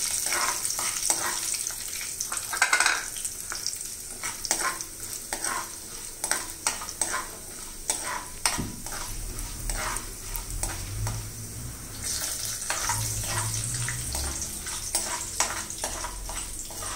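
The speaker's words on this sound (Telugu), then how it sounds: "మినప్పప్పు, శనగపప్పు వేసుకుని ఇవి కొంచెం వేగిన తర్వాత" Urad dal and chana dal frying in hot oil while being stirred, giving a continuous close sizzle broken by repeated rhythmic scrapes and taps of a spoon against the pan.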